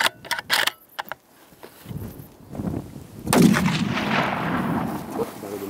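A single loud rifle gunshot while hunting in the Pyrenees, a sharp close blast with a rolling echo that decays into outdoor ambience, following a few faint clicks.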